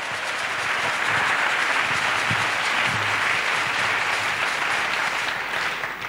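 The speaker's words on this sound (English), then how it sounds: "Let's clap for Jesus Christ." Congregation at a religious deliverance service applauds steadily, a dense continuous wash of many hands clapping that fades slightly at the end.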